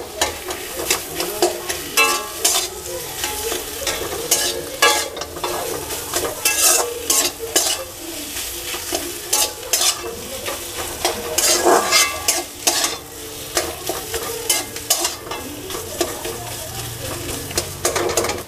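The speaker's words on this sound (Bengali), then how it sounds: "এটাকে একটু ভালো করে নেড়ে ছেড়ে নেব।" A spoon scraping and stirring a potato filling seasoned with chilli and salt for paratha in a pan, with quick rhythmic clinks and scrapes over a faint background sizzle, close and continuous.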